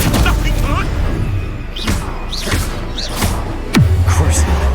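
The Confringo spell blast from Hogwarts Legacy: a sudden explosive burst with a thump, set among whooshing spell effects and a voice speaking in the game.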